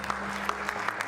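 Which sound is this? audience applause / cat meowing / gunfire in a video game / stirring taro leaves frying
audience applause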